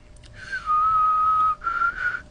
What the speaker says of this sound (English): If you notice I'm whistling through a lot of this